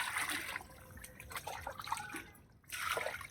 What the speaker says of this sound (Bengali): এই মাংসটা এখন আমি ধুয়ে